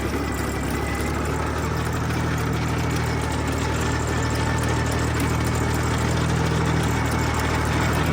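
A walk-behind tractor with a rotary tiller churns wet soil in a pumpkin field, its PTO engaged in third gear. The engine drones loud and steady and close, with a constant rumble and no talk over it.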